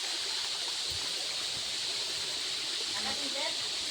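Forest stream flowing steadily as a constant broadband water rush, with faint talk in the background.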